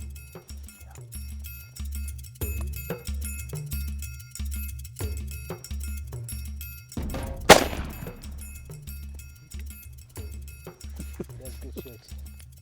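One sharp, loud rifle shot rings out at a ram during a hunt, cracking sharply and then decaying over a steady, rhythmic low background.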